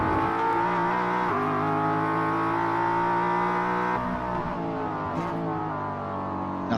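A Ford Mustang race car engine in the iRacing video game drones steadily at high revs, its tone shifting as it changes gear, loud and close throughout.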